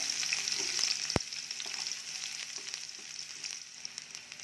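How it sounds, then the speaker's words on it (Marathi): Finely chopped onion hits hot oil in a pan for a sprouted matki curry and fries with a steady, moderate sizzling hiss and one sharp clink near the start, no voices. "तेल छान तापलं कि यामध्ये आपण जो बारीक चिरून घेतलेला कांदा आहे तो टाकायचा"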